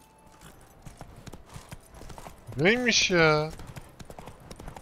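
Horse hooves clip-clopping in The Witcher 3 video game, a steady rhythm of steps under game sounds, with a loud voiced exclamation in the middle of the clip and a brief line of speech.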